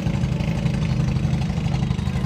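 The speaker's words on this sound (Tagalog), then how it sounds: "Ayun na yung isa, mandar na yung makina niya" A fishing boat's engine runs steadily and loud, a continuous low chugging drone with no pauses and no voices.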